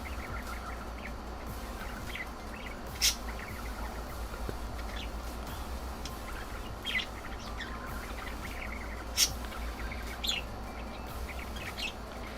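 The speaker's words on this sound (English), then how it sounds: "Sometimes when they're like tweeting, I'll go like beep back at them and then they'll beep at me." Pet birds tweet and chirp in brief, scattered calls over a steady low hum indoors, with a couple of sharper, louder chirps standing out; no talking.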